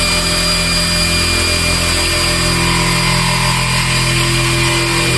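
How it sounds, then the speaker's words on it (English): A power drill bores through a metal wall stud while a TV mount is installed, giving a loud, unbroken grinding whine that holds steady for the whole stretch with no talking. "So you're just gonna drill it and push it all the way through."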